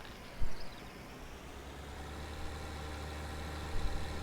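A tractor engine idles on a small dairy farm, a steady low rumble holding constant throughout, with a couple of brief louder knocks or thumps near the start and end.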